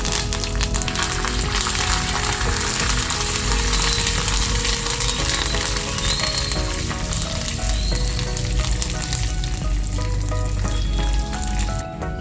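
Mustard seeds, green chillies and curry leaves crackle and sizzle loudly in hot oil for tempering, a dense continuous frying hiss with scattered pops throughout, close and without speech.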